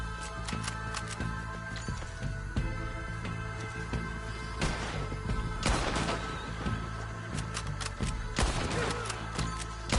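Rapid bursts of gunfire in a video game shootout, with sharp shots clustered near the middle and end over a constant electronic game soundtrack and effects.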